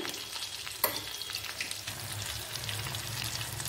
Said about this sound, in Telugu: ఇలా 2 వైపులా ఫ్రై చేసేసుకోవాలండి.